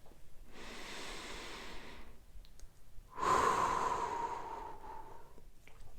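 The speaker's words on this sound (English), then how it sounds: "So breathe again deeply." Two slow, deep breaths from a person during a calming breathing exercise, each a long, airy rush of air, the second louder and closer than the first, separated by a short quiet pause.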